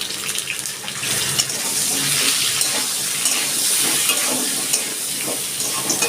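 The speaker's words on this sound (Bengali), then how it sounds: "দেখুন আলুটা লাল লাল করে ভাজা হয়ে গেছে" Potatoes frying in oil in a pan at home, a loud continuous sizzle with stirring, no talk.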